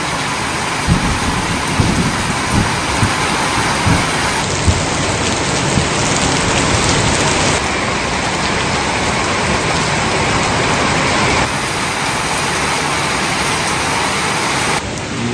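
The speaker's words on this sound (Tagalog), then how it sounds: "Ayan po, mas lumakas pa ang ulan." Heavy rain pours down hard and steadily, forming a loud, dense roar that fills the whole stretch with no talking.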